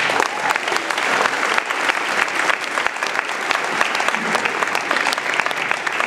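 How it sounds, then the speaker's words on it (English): A graduating class is applauded by a large crowd at a commencement ceremony, the clapping dense, loud and sustained without a break for about six seconds. "I'd like to give you a round of applause."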